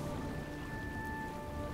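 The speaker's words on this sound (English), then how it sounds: "starting to rain." Rain beginning to fall in the video game Oblivion, a steady dense hiss of raindrops spread across the whole moment with no talking.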